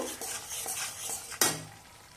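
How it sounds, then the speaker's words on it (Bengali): Chilli powder and spices sautéed and stirred in a pan for a Bengali vegetarian potol (pointed gourd) rezala, a soft continuous sizzle with light stirring scrapes and one sharper clatter near the end. "লঙ্কার গুঁড়োটা দিয়ে দু মিনিট কষে নিয়ে"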